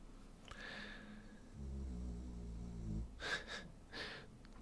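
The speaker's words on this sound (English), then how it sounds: "She's totally out of it. That's why she's snoring so hard." A woman snoring loudly in deep sleep, with a low rumbling harmonic snore in the middle and sharp nasal snorts and breaths near the end, close by with no talking.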